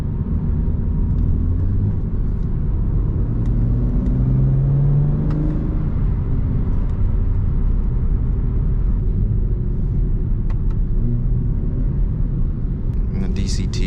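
BMW E92 335is with a DCT gearbox and an M Sport exhaust, cruising with a low, steady exhaust drone and gentle rises in engine note, heard from inside the car with a voice talking over it.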